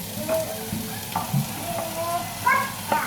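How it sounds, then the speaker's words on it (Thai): Bacon and garlic frying together in a pan, a soft steady sizzle with occasional scrapes and clinks of stirring, close and moderately quiet. "ผัดเบคอนลงไปก่อน"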